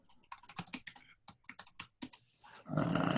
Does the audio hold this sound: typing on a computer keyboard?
yes